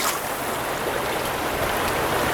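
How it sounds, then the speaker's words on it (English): Fast-flowing stream water rushing steadily during trout fly fishing, a dense close wash of sound with no voices. "We're in some fast water."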